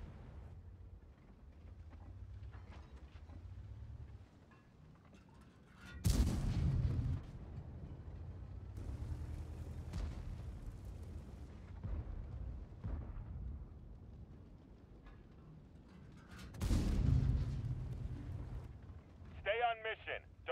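Artillery fires in World of Tanks, with two heavy, booming shots several seconds apart rising over a low rumbling background and faint voices.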